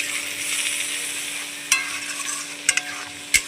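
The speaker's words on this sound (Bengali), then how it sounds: "এবারে মশলাটা সুন্দর করে কষানো হোক," Spice paste of chili powder, turmeric and green peas is stir-fried in a pan: a close, steady sizzle with a few sharp spatula scrapes and taps, and a faint background hum.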